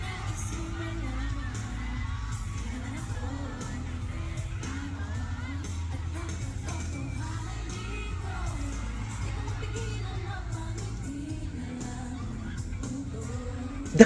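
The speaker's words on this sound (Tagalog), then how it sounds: "Oh my God, the crowd!" Concert crowd cheering and screaming at a first solo concert, a dense distant wash of voices and whoops sustained throughout at moderate level, with a sharp bang at the very end.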